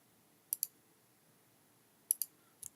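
Several sharp computer mouse left clicks in a quiet room: a quick double click, a second double click about a second and a half later, then a softer pair at the end.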